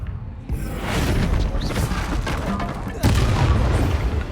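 The Bombarda spell explodes in the video game Hogwarts Legacy with loud, dense, booming blasts and crashing debris, and a second heavy impact lands partway through.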